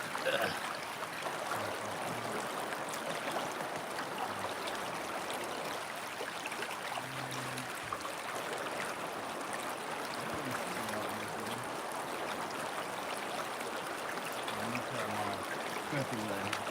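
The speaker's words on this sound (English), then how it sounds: "This is a creek." A creek flows steadily through gold panning, its broadband rush of water constant and fairly close, with faint voices now and then beneath the current.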